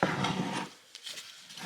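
A wrench works on a nut on a CX Racing turbo for a Honda Accord, giving a brief burst of metallic mechanical rasping followed by a few faint clicks close by, with no talking.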